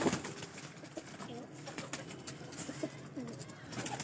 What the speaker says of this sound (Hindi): ये छत वाला बड़ा ब्रीडर कबूतर है जी